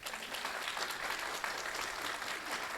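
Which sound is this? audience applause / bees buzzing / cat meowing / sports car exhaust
audience applause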